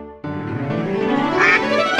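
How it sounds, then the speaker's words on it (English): Duck quacking in an animated nursery rhyme about a mother duck and her ducklings, a loud sustained nasal quack lasting nearly two seconds, close and clear with no talk over it. "Mother duck said, quack, quack, quack."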